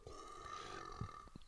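A single forced burp from gulped air lets out a low, rough belch about two-thirds through, with a shorter follow-up rumble near the end, fairly close and alone without talk.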